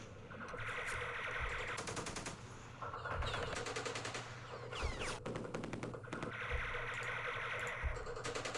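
Machine-gun fire in a Vietnam War strategy game during the Battle of Dak To, several rapid bursts of rattling shots separated by short pauses, with low thuds mixed in.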